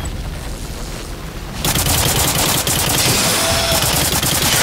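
The Asp Flechette gun in The Cycle opens up after a short quiet spell, blasting out a loud, rapid stream of shots that continues to the end with only brief breaks.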